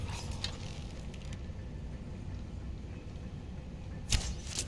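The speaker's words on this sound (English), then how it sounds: "He set off that trap there." In the video game Skyrim, a trap is triggered with a faint mechanical creak and clatter. It is set under a steady low ambient rumble, with a sharper click near the end.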